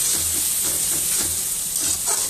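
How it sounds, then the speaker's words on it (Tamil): Ground masala being sautéed in a pan for a Pondicherry-style chicken gravy gives a steady, close hiss and sizzle that holds evenly throughout, with soft scraping stirs now and then. "கொஞ்ச நேரம் வதக்கணும் அரைச்ச மசாலா அது அப்போ தான் நல்லா வறுபடும்"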